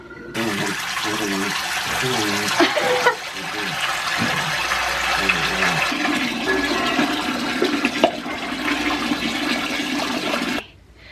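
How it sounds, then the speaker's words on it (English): Water from a tap pours steadily into a sink for bathing dogs, a loud continuous rush that starts abruptly and cuts off near the end, with a voice briefly audible over it. "And then I refill the sink with clean water"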